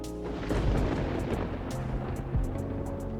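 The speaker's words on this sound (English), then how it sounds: "I love the storm. I love lightning and thunder." Rolling thunder rumbles through a stormy night in the cozy café game Coffee Talk 2, with deep low booms swelling near the middle and end over a steady wash of rain-like hiss, no talking.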